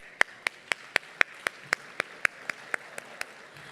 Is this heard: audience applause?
yes